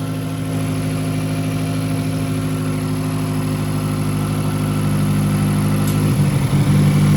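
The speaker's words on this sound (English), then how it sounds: "So now that it's running at an idle" A Mazdaspeed 3 (Axela MPS) engine idles steadily with a close, even hum, roughening slightly near the end.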